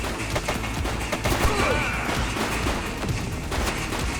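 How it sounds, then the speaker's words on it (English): Dense rapid gunfire in the police video game The Precinct, loud overlapping shots and bangs forming a continuous barrage throughout. "He's shooting!"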